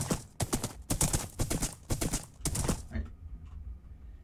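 Horse hooves clip-clop in Minecraft, a run of sharp blocky hoofbeats in quick bursts for most of the stretch, then stopping and leaving faint quiet game ambience at the end.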